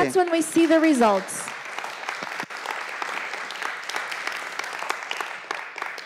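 A voice speaks briefly in Spanish, then a church congregation breaks into sustained applause, a dense steady clapping that carries on for several seconds.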